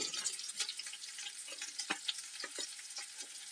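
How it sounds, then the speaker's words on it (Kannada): Mustard seeds, onion and curry leaves frying in hot oil for a Karnataka snake gourd sabji, a steady soft sizzle with scattered crackles and pops, fairly quiet and close, with no one talking. "ಸಾಸಿವೆ ಸ್ವಲ್ಪ ಚಟಪಟ ಆದ ನಂತರ ಈರುಳ್ಳಿ ಮತ್ತು ಕರಿಬೇವಿನ ಸೊಪ್ಪು ಹಾಕ್ಕೊಳ್ಳೋಣ"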